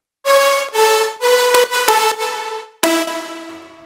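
Layered synthesizer chords from Sylenth and Avenger plugins stacked with piano, bright sustained stabs in a rhythmic pattern, loud and upfront with abrupt cuts between hits.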